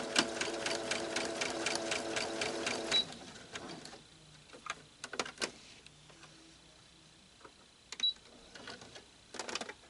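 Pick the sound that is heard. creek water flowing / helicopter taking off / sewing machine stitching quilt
sewing machine stitching quilt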